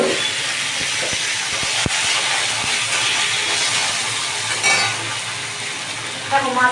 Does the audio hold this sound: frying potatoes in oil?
yes